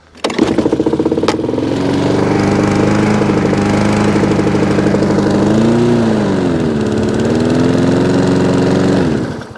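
A lawn mower engine runs loud and close at a steady pitch. Its revs dip and rise once partway through as the throttle and dead-man control are worked, and the engine carries on without any talk over it.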